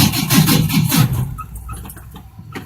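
A Mustang with a 200ci engine cranks on jumper cables, giving a loud, rhythmic starter churn for about a second and a half before it stops, leaving quieter mechanical noise and a faint click.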